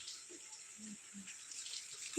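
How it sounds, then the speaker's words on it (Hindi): Water splashes and pours steadily, a broad hiss of running water with small intermittent splashes, close and fairly quiet, no voices. "ये पानी बहुत ज्यादा गिरा थे रे"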